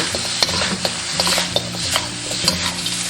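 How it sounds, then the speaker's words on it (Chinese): Pig trotters stir-fried in a wok with scallion, garlic, red pepper and a little hoisin sauce: loud sizzling and crackling with repeated sharp scraping tosses of the spatula, close up. "加入猪蹄。 然后翻拌均匀"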